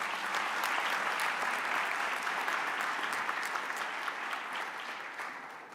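An audience at a provincial tourism career expo gives a sustained round of applause, many hands clapping in a thick continuous wash with some sharper claps standing out, tapering slightly toward the end.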